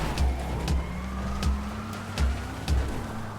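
Car driving off-road in the video game GTA 5, a vehicle not built for off-road use, its engine holding a steady low drone, broken by a series of dull thumps about every half second.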